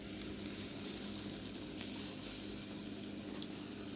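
Chicken barbecue with onions sizzling on a grill outdoors in Brazil, a steady close hiss and crackle of fat that runs the whole time with no talk over it.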